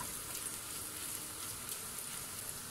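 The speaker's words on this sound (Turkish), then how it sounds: "Kokusu çıkana kadar kavuruyoruz soğanla salçayı." Onion and tomato paste sizzle steadily while frying in a pan for tarhana soup, a soft continuous crackling hiss, close and even, with no talking.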